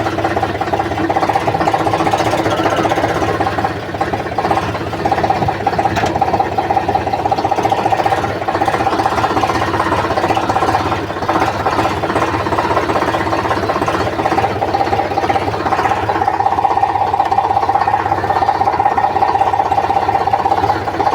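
A tractor engine runs steadily on a farm during coriander processing, a continuous mid-pitched mechanical drone with knocking vibration that stays loud and unbroken throughout, with almost no talking.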